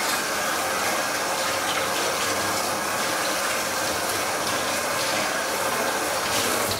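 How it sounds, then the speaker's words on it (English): Continuous running tap water at a kitchen sink as hands are washed under the stream, a loud, steady splashing rush with no talk. "First step, wash your hands."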